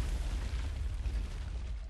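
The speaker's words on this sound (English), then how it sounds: "Explosion" A deep rumbling explosion sounds as an ancient is destroyed at the end of a Dota match, with heavy low-end booming that pulses and rolls for nearly two seconds and no voices over it.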